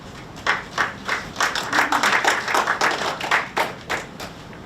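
Scattered clapping from a small audience at a startup pitch event, uneven and moderately loud, building briefly then thinning out over a few seconds.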